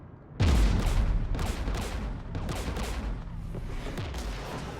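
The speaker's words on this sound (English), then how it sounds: "We're taking fire." Gunfire in the sci-fi shooter Mass Effect 3 starts abruptly and keeps going as a loud, dense barrage of rapid shots and booms, continuing steadily for several seconds.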